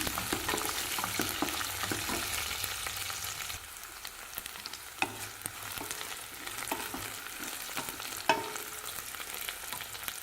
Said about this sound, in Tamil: இதோட பூண்டு சேர்த்துக்கலாங்க. நல்லா வதங்கட்டும்.